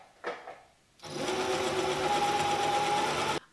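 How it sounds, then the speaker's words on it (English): A home sewing machine stitches a pajama pants seam, starting abruptly after a brief faint sound and then whirring in one steady, close, continuous run for over two seconds before cutting off. "I'm going over the same area that was just stitched a second time to reinforce it"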